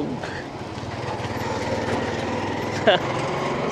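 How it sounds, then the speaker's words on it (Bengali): A CNG auto-rickshaw engine runs close by on a busy street, a steady buzzing putter with a brief horn-like blip near the end, under ongoing talk. "সিএনজি এখানে আছে, সিএনজি বাইক সব কিছু, শুধু রিক্সা নেই"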